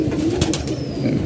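A pigeon kept by a Bangladeshi pigeon keeper coos close by in a short, throaty burst, with faint background rustle and no talking.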